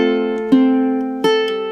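A single measure of a song picked and strummed on ukulele, a few chords ringing close and clear with sustained notes between strokes, no voices.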